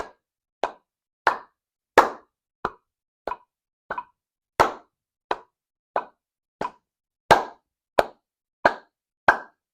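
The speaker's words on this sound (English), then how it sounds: "1, 2, ready, clap." Sharp single claps land one after another at an even, steady tempo, about one every two-thirds of a second, crisp and close with silence between.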